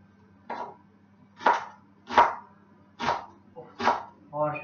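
Knife chopping onion on a cutting board while preparing minestrone soup, five or six distinct strokes at a steady, unhurried rhythm, close and clear, with a voice starting briefly at the end.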